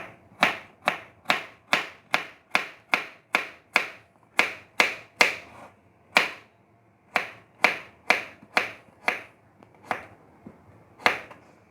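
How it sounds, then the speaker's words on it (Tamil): A knife slicing elephant foot yam thinly, about twenty crisp, sharp chops in a steady quick rhythm against a board, close up with brief pauses between runs. "நல்லா நைஸாக வெட்டி வச்சுக்கலாம்"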